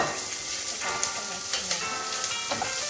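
Capsicum fries in a pan of chicken curry with a dense, steady sizzle and occasional clinks of a stirring spoon, close and fairly loud, no talk.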